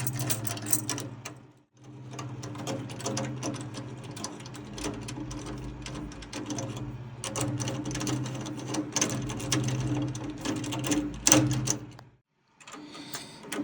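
A screw is driven into a drum rim while a wooden rim piece is fitted, giving bursts of close mechanical whirring and clicking that stop briefly and then resume.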